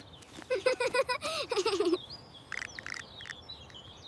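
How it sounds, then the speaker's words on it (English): Small birds chirp in a quick series of bright, warbling notes close by, followed after a short pause by a few fainter, scattered tweets over a soft background hiss. "Chirp, chirp."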